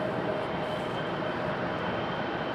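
An American Airlines Boeing 737-800 jet arriving from Miami at Raleigh Durham airport, giving a loud, steady broadband roar with a faint whine running through it.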